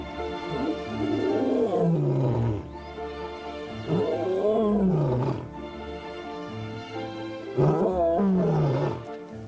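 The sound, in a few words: young lion roaring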